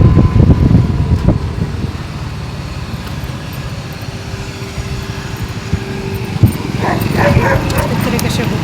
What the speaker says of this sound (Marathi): कुत्रे कसे भुकतात बघा.